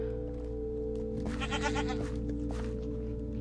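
A goat bleats in Minecraft, a single wavering, nasal bleat standing out clearly over a steady low game hum, with faint clicks around it.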